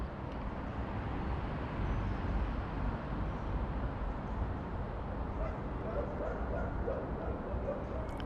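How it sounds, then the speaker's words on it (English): Dogs barking at an abandoned theme park, somewhere off in the distance, faint under a steady broadband wind and rotor hiss from a small DJI Mavic Mini drone hovering overhead. "Oh hello, we've got dogs barking."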